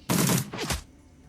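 Gunfire in the video game Shadowrun: Dragonfall, two quick bursts of shots in about a second, the first longer and louder, followed by a fading tail.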